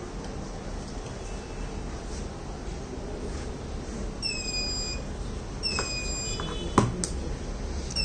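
An IoT smoke alert buzzer on a transmission-line fault monitoring setup gives a few faint, thin electronic beeps over steady background hiss, with one sharper tick near the end.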